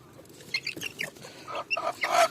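Hungry chickens in a coop clucking and squawking in short, close bursts that grow busier toward the end, with no talking.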